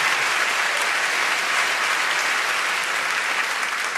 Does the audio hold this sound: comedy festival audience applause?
yes